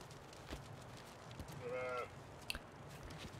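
A sheep in the video game Force of Nature 2 gives one short, wavering bleat lasting about half a second, heard over a faint, steady game ambience with soft clicks.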